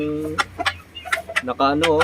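A bulik rooster clucks and gives short crowing calls close by, several sharp throaty bursts in quick succession, with a voice speaking briefly between them.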